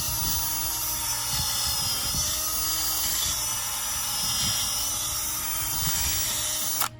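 A steady high-pitched electric drill whines continuously at close range, drilling a tap hole into a maple tree, with faint low rumbling underneath and no talking.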